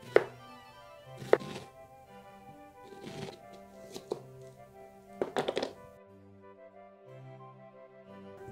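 Knife cross-cutting sliced vegetables on a cutting board for a salad, a series of close, irregular thunks and chops spaced a second or so apart, with a background music bed and no talking.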